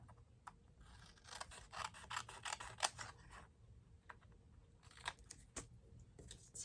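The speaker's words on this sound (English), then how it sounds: "I'm going to take my scissors and trim this down" Scissors trim cardstock for a Stampin' Up! fold card in a series of close, crisp snipping and rustling bursts. The cuts come in two clusters separated by a quieter pause, and no one talks.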